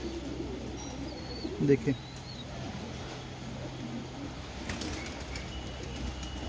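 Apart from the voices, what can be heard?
pigeons cooing and flapping wings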